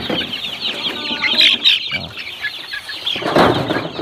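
Chickens cluck and squawk close by, with brief bursts of wing flapping amid the busy, overlapping calls.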